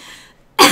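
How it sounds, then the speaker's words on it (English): A single short, harsh cough bursts out close to the microphone after a brief faint breathy sound. "I'm, like, coughing up tacos"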